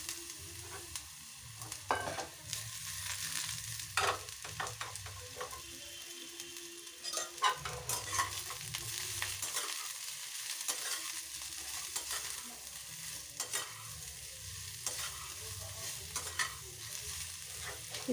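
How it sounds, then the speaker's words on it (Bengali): Mushrooms frying in a little oil in a pan, with a soft steady sizzle under repeated scraping stirs and spatula knocks, fairly quiet and close, no voices. "সামান্য একটু তেল দিয়ে আমি মাশরুমগুলোকে ভেজে নেব।"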